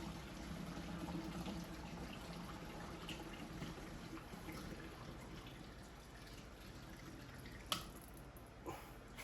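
Leftover water poured out of a dirty bong during a deep clean, a steady faint trickle and drip running throughout, with a couple of sharp knocks near the end.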